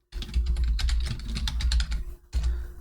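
Quick, steady typing on a computer keyboard, a dense run of key clicks with a brief pause before a final burst.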